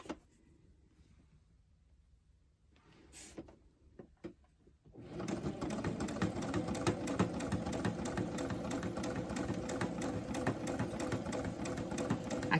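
A sewing machine runs steadily while stitching a fitted fabric face mask, starting after a few quiet seconds of small handling clicks and then droning continuously and close up, with no talking.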